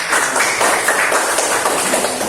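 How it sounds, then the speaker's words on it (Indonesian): Children clap together in a classroom lesson, a dense steady patter of many small hands that carries on evenly throughout without a break. "tepuk tangan untuk kita semua"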